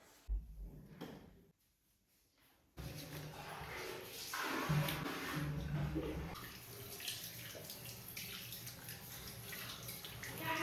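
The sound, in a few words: washing face with running tap water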